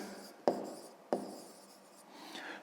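Pen or pencil writing down the answer to a fifth-grade maths exercise on paper: two sharp strokes a little over half a second apart, then soft continuous scratching that swells near the end, fairly quiet and with no voices.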